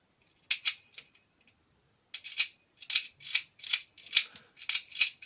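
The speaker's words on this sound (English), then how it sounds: "You would put the key in, turn it, and it would make this cannon come out." A small plastic mechanism on a 1997 Power Rangers Turbo action figure clicks and ratchets as a toy cannon extends, in quick, sharp bursts, a couple of isolated clicks followed by a rapid, regular series, close up.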